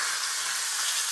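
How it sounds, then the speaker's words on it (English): A half chicken searing in a hot pan gives off a loud, steady, dense sizzle with a continuous crackling hiss and no voices. "I'm sorry if you can hear this chicken sizzling away."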